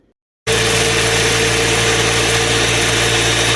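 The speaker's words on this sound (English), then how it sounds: "we're just going to start blending this up until it becomes a butter, hazelnut butter" A Ninja blender whirs to life after a brief silence, blending hazelnuts into hazelnut butter with a loud, steady, high-pitched motor roar that runs unbroken to the end.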